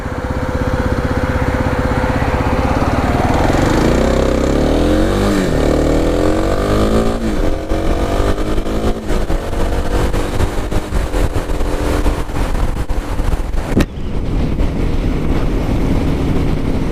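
Kawasaki KLX300sm motorcycle engine running steadily while ridden, a loud continuous drone with rising and falling pitch as it revs through gears, near and without talk.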